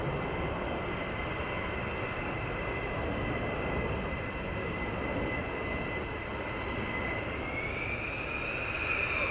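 Fighter jets landing at RAF Lakenheath make a continuous loud roar with a steady high whine rising near the end, sustained engine noise from a distance without a break.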